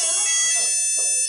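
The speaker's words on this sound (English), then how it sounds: "Oh, that's my phone!" A mobile phone rings with a loud, bright electronic tone that holds steady for over a second, close by, with a faint voice underneath.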